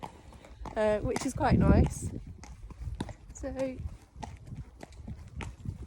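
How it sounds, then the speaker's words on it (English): Hooves of a lively horse clip-clop steadily during a ride out on Boxing Day, a close, soft rhythmic thudding running under a rider talking almost continuously. "I've got a slightly lively horse underneath me today"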